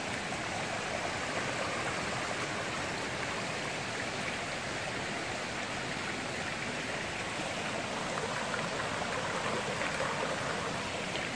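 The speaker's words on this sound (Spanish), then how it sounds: "para mostrarles a ustedes el río crecer. Y aquí va todavía cubriendo terreno." A swollen river, risen and spreading over the land, rushes in a steady, loud, unbroken roar of flowing water with no voices over it.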